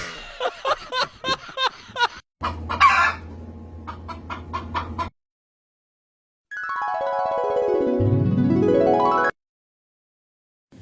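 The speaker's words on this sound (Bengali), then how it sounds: "এই যে বাবা আজকে 2টা মুরগি আনছি" Chickens cluck in a quick series of short, close calls, followed by a burst of flapping and commotion, then a rooster lets out one long, loud crow.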